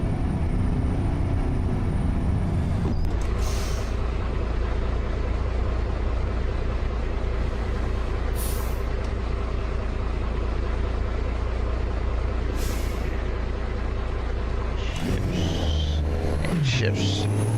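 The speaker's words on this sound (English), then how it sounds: "Listen to that truck shift. Man, this truck shifts like nobody's business." A modded heavy truck in a truck driving game rolls out of Nuremberg, Germany, its engine a constant loud drone. Sharp hisses from the air brakes and gear changes burst through it a few times, and someone talks over it.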